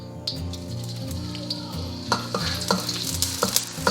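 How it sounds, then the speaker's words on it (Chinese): Shallots frying in oil in a pan over low heat, a steady soft sizzle with occasional crackles and stirring taps, close and fairly quiet. "我们先倒点油炸葱头酥"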